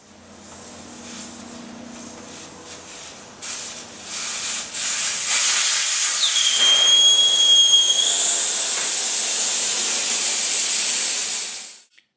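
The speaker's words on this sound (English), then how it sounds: "removing the valve stem to let the air out of the tire" Air hisses steadily out of a Harley motorcycle tire once the valve stem core is pulled, building to a loud, sustained close-up rush with a thin whistle before cutting off abruptly at the end.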